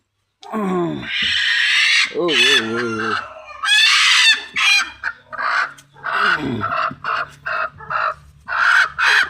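A loud hen, a country hen set on eggs, clucks and squawks in a series of varied, close calls, some drawn out and wavering, others short and choppy.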